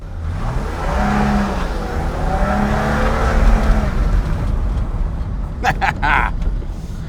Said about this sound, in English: Let's burn some rubber.